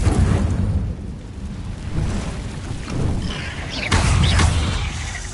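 Confringo spell explosions in Hogwarts Legacy roll out as loud, deep booms in repeated waves, with a final burst near the end and bright crackling debris over a rumbling low end.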